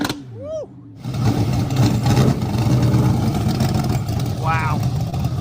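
A matte black 1962 Chevrolet Impala hot rod's engine rumbles loudly at a muscle car show after a brief quiet moment, a sustained rough growl with voices heard over it.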